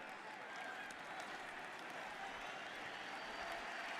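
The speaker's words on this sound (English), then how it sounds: "Well, here comes the applause." Stadium crowd at a college football game, Oklahoma versus Miami, applauding in a steady, dense wash of clapping and cheering heard from a distance, even and unbroken throughout.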